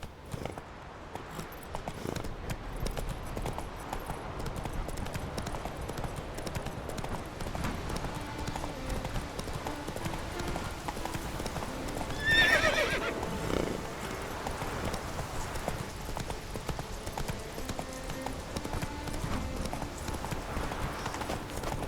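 Roach, a horse in The Witcher 3, walking with a steady, regular clip-clop of hooves close by, a brief swell and a short whinny-like cry near the middle, and a voice occasionally heard.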